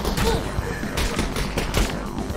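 Bursts of gunfire in the VR shooter Half-Life: Alyx, a dense run of loud shots and thuds over about two seconds with a faint voice mixed in.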